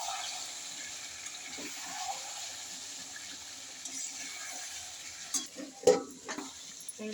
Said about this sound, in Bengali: একবার কষা হয়নি, এখন হবে কষা।